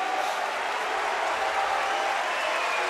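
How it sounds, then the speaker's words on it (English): Steady, dense roar of a large arena crowd cheering and clapping at a judo Grand Slam final in Tel Aviv, sustained and loud throughout without a break. "The first movement from Palchik draws a cheer from the crowd."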